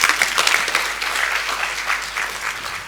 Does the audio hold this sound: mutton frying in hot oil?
no